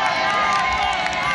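Supporters at the Fenadoce sweets fair in Pelotas cheer for contestant Marco Matos during a live cooking contest, a dense, steady crowd roar mixed with voices and music carrying throughout.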